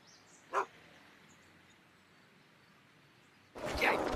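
A single dog bark from the video game Back to the Future pops out faintly over quiet background, followed later by a louder burst of noisy sound.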